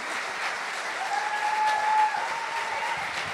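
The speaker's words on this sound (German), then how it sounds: "dein Applaus." Steady applause from a science slam audience, a dense wash of clapping that holds at an even level throughout.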